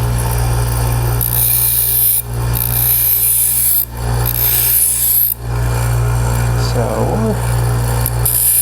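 A cheap Harbor Freight bench grinder with an 80-grit disc roughs a tungsten electrode, giving a steady motor hum under a loud, rasping grind that surges and dips in short passes. Someone speaks briefly.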